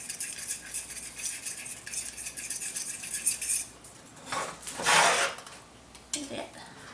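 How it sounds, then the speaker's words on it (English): Garlic in liquid is stirred in a pan, with close scraping and rubbing of a utensil against the pan and a soft simmering sizzle, then a few louder scrapes near the end. "Just kind of mixing it down in this liquid."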